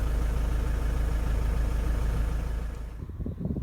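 A 2001 Ford Transit Mk6 with a 2.4 TDDi diesel engine idles steadily and close by, a low rumbling drone that softens slightly toward the end.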